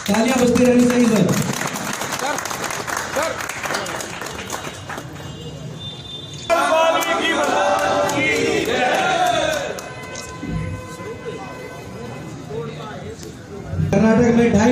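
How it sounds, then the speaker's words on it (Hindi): An audience claps at a medal felicitation ceremony. The applause is steady and dense and runs through most of the stretch, with a voice over a loudspeaker heard on and off above it. "तालियां बजती रहनी चाहिए सर।"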